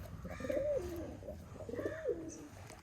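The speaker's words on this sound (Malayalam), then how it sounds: "ഇതൊക്കെ ഇതാണ് പ്രാവ്." A pigeon coos twice, soft throaty rolling calls close by, separated by a short pause against quiet background.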